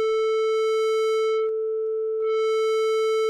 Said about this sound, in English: I'll go ahead and input a 440 sine wave